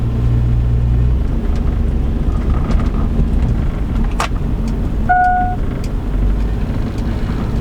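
A Chevy Avalanche with a stuck brake creeps slowly along, a steady low engine and road rumble with wind buffeting the mic, plus a brief high squeal near the end.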